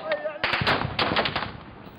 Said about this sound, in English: Seconds later, the gunfire gets much closer.